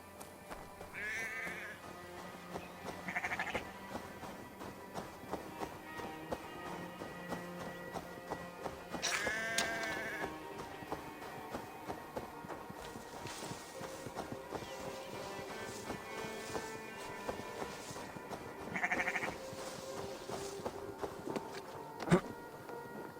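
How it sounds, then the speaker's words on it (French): A sheep in the video game Assassin's Creed Valhalla gives several short bleats spread over time, heard against quiet outdoor ambience with soft hoof steps and insect buzz. "Le mouton me suit quand je siffle."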